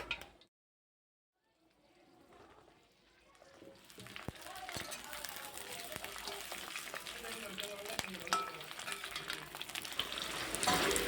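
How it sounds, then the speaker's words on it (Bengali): Cut pointed gourd (potol) fries in oil in a wok. After a brief silent gap, the sizzle fades in and grows into a loud, crackling fry with occasional sharp pops. "পটলগুলোকেও একইভাবে ভেজে নেব লাল লাল করে"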